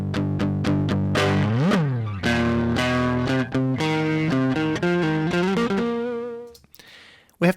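A two-stage distortion effect from the Trash 2 plugin fuzzes a series of melodic synth or guitar-like notes, loud and gritty with rich harmonics, ending in a short burst of noise.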